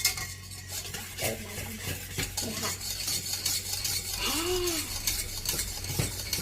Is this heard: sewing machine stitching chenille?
no